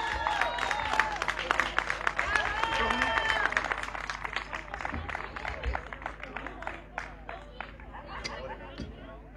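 Audience applause for a band at a charity show. Dense, sustained clapping from a crowd comes with cheering and a whistle, thinning out toward the end while voices babble underneath.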